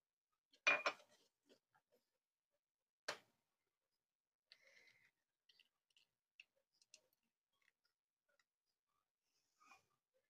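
Farm fresh eggs are cracked against a bowl rim indoors, one loud close crack and tap followed by a second sharp knock, then scattered faint clicks and small splashes in a quiet room.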